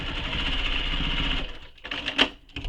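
A sewing machine stitches a dart in a crossbody bag: a quick, even mechanical whirr of the needle running for about a second and a half, then a pause and a few short bursts as the stitching finishes, close and fairly quiet.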